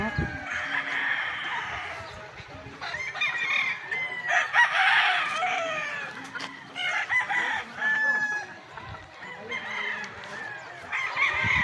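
Chickens cluck busily nearby while a rooster crows more than once, with a few faint voices in the background.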